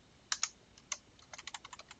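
Fingers tap out a short burst of keystrokes on a computer keyboard while logging into a controller over SSH, with a few spaced clicks followed by a quicker run of close, crisp taps in a quiet room.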